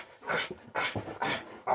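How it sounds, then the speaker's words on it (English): A dog pants and whimpers close by, with three rhythmic bursts of breathy huffing mixed with faint whiny tones, fairly quiet and without speech. "And then here's my dog."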